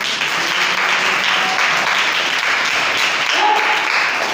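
Steady, dense applause from an audience at a Christian sermon fills the whole stretch, loud and unbroken.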